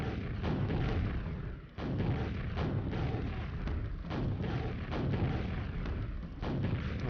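Rockets fire repeatedly in the video game Quake, a dense run of heavy booming blasts and thuds in quick succession, loud and continuous with no talking.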